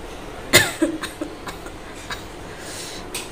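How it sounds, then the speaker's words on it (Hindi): A person gives one sharp, close cough, followed by a few fainter rough throat sounds and quiet breathing against a soft background hiss. "मुझे काटते समय खांसी भी आ रही है"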